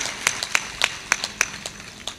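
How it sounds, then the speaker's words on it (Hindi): Sparse hand claps at a spiritual discourse, a loose irregular run of about a dozen sharp claps, close and fairly loud, with no voices over them. "इसलिए ताली बजाओ और ठहाका मार कर हंसो।"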